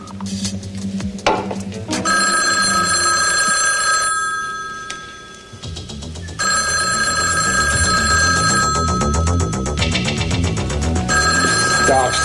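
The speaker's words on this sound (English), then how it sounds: "Come on, Janice, answer the phone." A telephone bell rings in repeated bursts indoors, loud and close, with short pauses between rings while people talk underneath.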